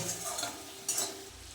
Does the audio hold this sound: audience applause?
no